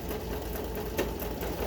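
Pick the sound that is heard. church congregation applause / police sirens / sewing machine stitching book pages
sewing machine stitching book pages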